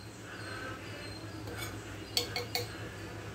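A spoon taps against a pan three times in quick succession while masala powder goes into a boondi curry, light metallic clinks over a low steady hum in a quiet kitchen.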